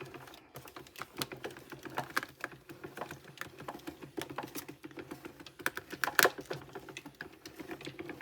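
A paper-craft die-cutting machine runs steadily, with a dense rapid clicking and rattling as a scrapbook sheet feeds through. The sound is close and constant, with no talking.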